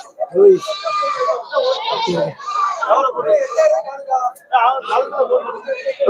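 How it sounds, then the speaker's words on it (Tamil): Sheep and goats bleat repeatedly at a Saturday livestock market in Ettayapuram, loud and close, overlapping calls in quick succession with people talking among them. "இதுலயும் கொஞ்சம் செம்மறி இருக்கு"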